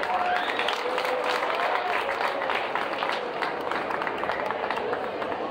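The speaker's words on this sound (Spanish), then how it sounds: "¡Fuerte el aplauso!" Crowd applause at the official inauguration of the San Mateo 2023 fair in Atlatlahucan, a steady, dense wash of many hands clapping that holds loud and even throughout, with some voices and cheers mixed in.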